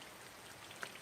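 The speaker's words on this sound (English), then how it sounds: "today, of course, it wants to rain." Rain falling outdoors, a soft, even hiss of drops with one brief sharper patter, faint and steady with no voices.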